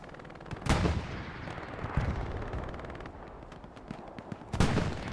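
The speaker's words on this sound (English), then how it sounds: "you got this buzzsaw of an MG42 coming across you" Bursts of MG42 machine gun fire in the World War II shooter Hell Let Loose during a competitive match, with two sharp loud volleys at start and end over a continuous crackle of distant gunfire.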